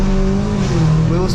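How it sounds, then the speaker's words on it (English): A tuned Stage 2 BMW 330e of 380 bhp accelerates hard with wheel spin, a loud close engine drone with shifting rev tones that fills the moment. "Wheel spin there."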